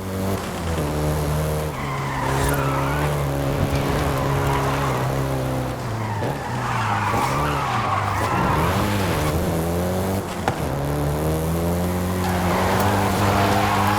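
Volkswagen Golf GTI in Forza Horizon 5 driving hard through Mexico, a steady engine drone with shifting pitch and repeated tire squeals and skids layered over it, loud and continuous.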